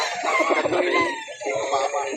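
A rooster crows at an outdoor chicken market in Calauan, Laguna, a drawn-out call rising and falling twice, with faint voices and crowd chatter around it.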